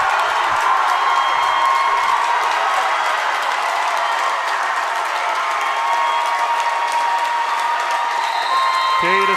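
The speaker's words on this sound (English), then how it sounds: "standing up and cheering here. The Kane crowd, the Keystone crowd" A packed gym crowd at a District 9 girls' AA volleyball championship between Keystone and Kane cheers and applauds loudly and continuously, with shouts and whoops mixed into a dense, sustained roar.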